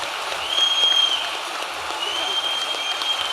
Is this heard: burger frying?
no